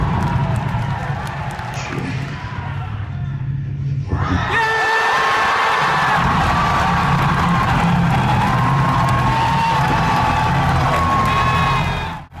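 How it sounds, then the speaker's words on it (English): A theatre crowd watching the Star Wars teaser line "Chewie, we're home" starts with a murmur, then erupts into loud sustained cheering, screams and whoops from many people. "listen to the crowd at the "Chewie, we're home" moment"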